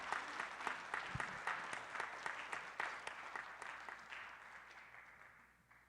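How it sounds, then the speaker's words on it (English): A city council meeting audience gives a round of applause for a city employee's son, steady clapping from many hands at moderate distance that gradually tapers off. "So please give Alex a round of applause."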